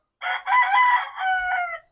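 A rooster crows once, loud and close, a drawn-out call in a few rising and falling segments against a quiet background.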